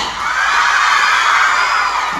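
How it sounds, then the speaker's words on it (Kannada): A crowd at a live event in Karnataka, with women in the audience, breaks into loud, sustained applause mixed with cheering and whoops, filling the whole moment with steady dense noise and no speech over it. "ಬನ್ನಿ ಜೋರಾಗಿ ಚಪ್ಪಾಳೆ"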